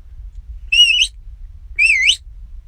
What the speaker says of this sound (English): I use a Logan whistle for these commands.